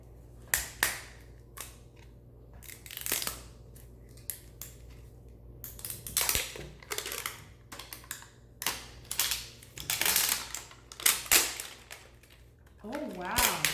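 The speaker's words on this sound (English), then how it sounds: "So now we're going to unwrap this part." LOL Surprise doll packaging being unwrapped, heard as irregular bursts of crinkling and tearing plastic wrap, close and moderately loud, with pauses between handfuls.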